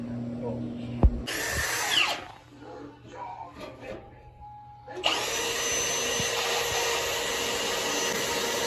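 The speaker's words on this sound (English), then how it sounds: "So he's drilling the pan out" A power drill bores out the floor pan of a 1969 Buick GS in a workshop, with a loud whining burst near the start, then a long, steady drilling drone after a pause filled with clanks and faint voices.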